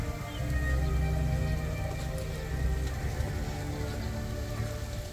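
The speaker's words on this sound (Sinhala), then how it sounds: "මෙහෙට ලාවට වහිනවා දැන් නම්" Light rain falls steadily in a stone park in Tianjin, a soft, continuous hiss of drops on surfaces that stays fairly close and even throughout, with no talking.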